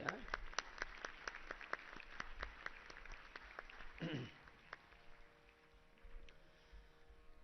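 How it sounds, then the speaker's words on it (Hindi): Faint, sparse claps from an audience at a gathering, irregular and distant, with a voice speaking partway through and a low background hum. "एक बार इनके लिए जोरदार ताली बजाओ भैया।"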